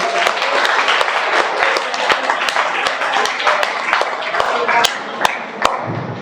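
Enthusiastic applause for a child at a scientist workshop, sharp dense claps from a crowd rattling steadily for several seconds before tapering off near the end.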